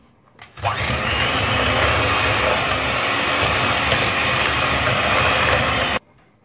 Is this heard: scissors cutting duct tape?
no